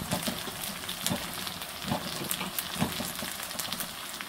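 Whole cardamom pods, cloves and cinnamon sticks frying in hot oil in a pan give a steady, close sizzle, with faint scraping and stirring clicks every second or so.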